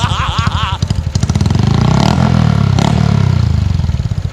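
A modified Honda Wave 110i motorcycle engine revs steadily at close range, loud and rough with a clattering exhaust, while a person speaks briefly over the start.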